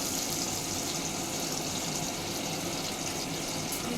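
Ridge gourd pieces tumble into onions frying in a home kitchen pan, giving a steady, dense hiss and wet crackle that holds evenly throughout, close and loud, with no talking.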